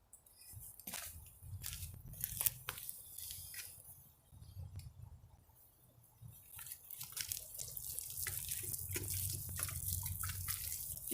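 Garden plants in dry soil being watered, with irregular splashes and drips landing close by over a low background hum, growing into a steadier trickle toward the end.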